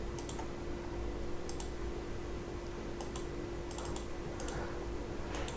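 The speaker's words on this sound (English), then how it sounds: "we didn't jump to the sheet May while typing the formula" Typing a formula on a computer keyboard, a few sparse clusters of crisp key clicks over a steady electrical hum, faint and close with gaps between strokes.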